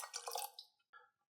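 Ruby red grapefruit juice is poured into a small cocktail measure in a brief, faint trickling splash that tapers off, with a short second drip just after.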